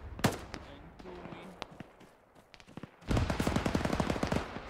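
Gunfire in the military shooter Arma 3: scattered single shots crack near and far, then a sustained burst of rapid automatic fire erupts loudly near the end.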